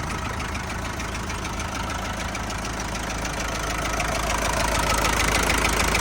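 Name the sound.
Foton Lovol TB-454 tractor engine idling quietly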